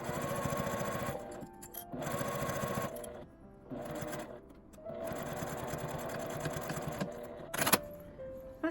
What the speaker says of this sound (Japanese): 印から印まで端ミシンをかけます。